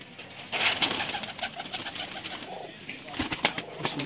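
Sialkoti golden pigeons coo softly in a series of short rhythmic pulses, heard close up with light background rustle and a few sharp clicks.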